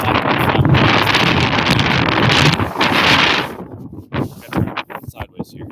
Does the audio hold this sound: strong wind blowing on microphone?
yes